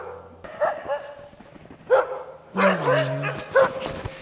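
Husky dogs bark and yip several times in Canada, in short, loud bursts close by, with a long whining howl in the middle. A voice speaks briefly among the barks.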